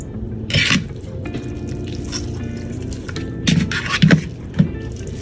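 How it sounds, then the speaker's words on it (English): Wet cooked spinach is squeezed by hand in a kitchen, giving a few soft squishes and drips of water falling into a bowl, with scattered clinks of dishes in between. "And then you're gonna squeeze the water out."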